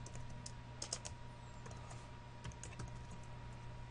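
Keys tapped on a computer keyboard while writing Visual Studio 2010 VB.NET code, a few quiet scattered clicks and short bursts with no talking.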